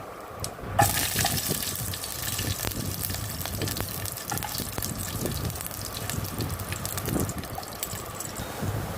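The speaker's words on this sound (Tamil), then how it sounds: "எண்ணெய் காஞ்சிடுச்சு. கடுகு போடுவோம்." Mustard seeds hit hot oil in a pan, setting off a continuous hissing sizzle with dense crackles and pops that runs steadily for several seconds, close and fairly loud.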